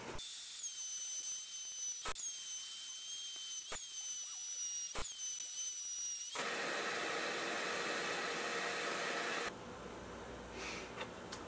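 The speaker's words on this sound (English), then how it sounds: "let's run these through the router and see if I can do it without losing a finger" Wood router with an old flat bit thinning half-inch wood for a picture frame, a high steady whine broken by short cutting bursts, then a rougher louder cutting roar that drops to a lower hum near the end.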